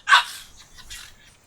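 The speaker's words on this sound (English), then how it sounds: "my dogs are like an audience in the background for this video" A dog gives one short, faint bark in the background, then a couple of softer yips follow at a distance.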